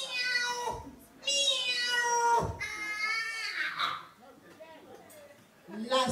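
A person's voice imitates a cat meowing, with several drawn-out, wavering meows one after another, followed by a softer, breathier stretch and a short final cry, heard close and clear.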